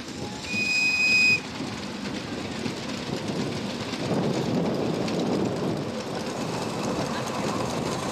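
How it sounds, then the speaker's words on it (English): A visiting steam tank engine hauls carriages of passengers around a small railway, heard at a distance as a soft, steady rolling rumble with a brief high whistle near the start. "Visiting tank engine from Chesterfield pulls around another trainload of happy passengers."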